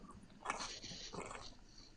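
A dog whimpers and makes small whining and sniffing sounds close to the microphone while trying to lick bug juice off an object, in short uneven bursts against a quiet background.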